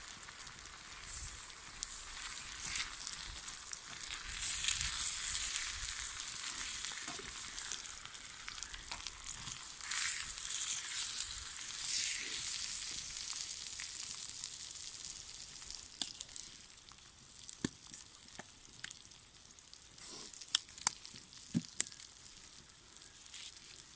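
Thick butcher's bacon frying in a pan over a campfire in an English pine woodland, a steady close sizzle and crackle throughout with occasional sharper pops near the end.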